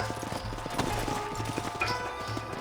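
Horse hooves clip-clop in a steady walking rhythm in Red Dead Redemption, close and clear over a low ambient game soundscape, with a brief whinny-like tone partway through.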